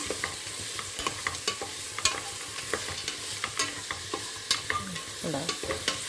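Vegetable biryani mix with tomatoes being stirred in ghee in a pan: a soft, steady sizzle broken by repeated close spoon scrapes and taps, with no talking.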